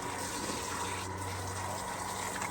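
Water gushing steadily from a newly fitted outside garden tap, a loud continuous rushing hiss close by with no talk.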